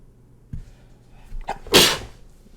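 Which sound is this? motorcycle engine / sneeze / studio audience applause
sneeze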